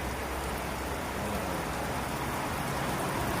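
Heavy afternoon rain pours down in a dense, steady hiss of drops on surfaces. It is loud and unbroken throughout, with no voices.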